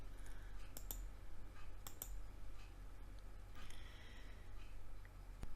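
Computer mouse clicks while working in GIMP come as a few sharp, quiet clicks, some in quick pairs, spaced over a faint steady background hiss.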